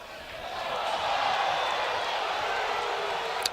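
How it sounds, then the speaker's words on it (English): A stadium crowd at a college baseball game between LSU and Kentucky murmurs and swells in a broad, steady rumble, rising slightly and then holding, with no distinct cheers or claps standing out. "And you hear the crowd going restless."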